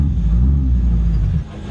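Baja 1000 pre-runner off-road vehicle engine roars loud and close with a deep steady rumble, dropping off sharply near the end.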